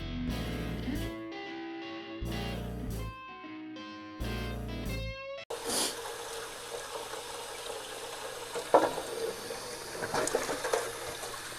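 Tap water runs steadily into a pan at an old sink, a soft continuous splash after a stretch of other sounds, with a few louder clinks and splashes.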